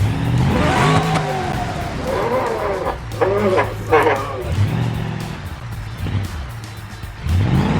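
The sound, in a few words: engine of a custom-built 4x4 revving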